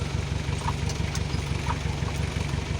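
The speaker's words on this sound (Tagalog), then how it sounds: "pinandar na natin yung ating Mitsubishi L300" A Mitsubishi L300 van's 4D56 diesel engine idles steadily close by, a continuous low rhythmic chugging with no voices over it.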